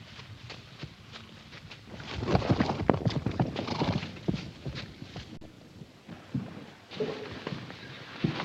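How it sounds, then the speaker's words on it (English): Many horses' hooves clatter and pound together in a rushing, irregular mass, with an occasional whinny and some wind noise. "Damn them horses. Stampeded again."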